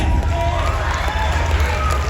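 Audience at a PCA Naturals physique bodybuilding show applauding and cheering the athletes, a steady dense wash of clapping and crowd noise filling the hall throughout.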